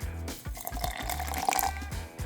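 Water is poured into whipped honey mixed with instant coffee, a close, splashing, gurgling trickle that runs continuously for a couple of seconds with bubbly liquid detail.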